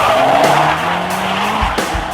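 A Mustang GT drift car fitted with Stainless Works headers skids with screeching tire squeal and a rising engine whine, loud and close, with sharp bursts near the end.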